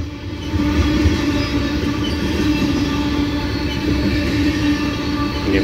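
CSX ethanol freight train led by two SD70 locomotives, one of them flared, passing a road crossing at close range: a steady, loud rumble of engines and rolling tank cars that holds throughout, with no voices.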